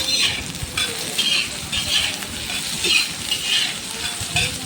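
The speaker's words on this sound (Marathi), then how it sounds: "मंद आचेवरच भाजायचं आहे न त्याच्यामध्ये थोडं भाज भाजतानाच भाजत आलेलं असं दिसलं थोडं लाल लाल होत आलेलं दिसलं त्याच्यामध्ये थोडंसं लसणाच्या पाकळ्या" Garlic cloves roast in a pan over a low flame for a ridge gourd chutney, with a soft, steady sizzle and repeated scraping stirs close by.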